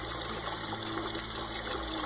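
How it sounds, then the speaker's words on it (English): Hot water pouring from a kettle into a canning pot, a steady, dense rushing and splashing stream that continues evenly throughout at close range. "Filling it with hot water to speed the boiling process."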